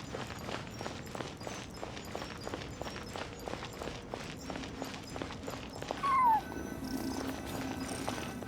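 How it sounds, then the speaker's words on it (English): A cat in the Genshin Impact video game, inside ruins in Nod-Krai, gives a single clear meow over a steady run of rhythmic footsteps and faint ambient game sound. "I followed the cat's cries to find my way out"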